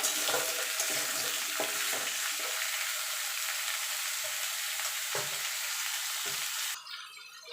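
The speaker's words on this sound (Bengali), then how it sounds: "এবার কুমড়োটা একটুখানি ভাজা ভাজা করে নেব" Steady sizzling of pumpkin frying in a hot pan, with occasional stirring clatters; the sizzle drops off abruptly near the end.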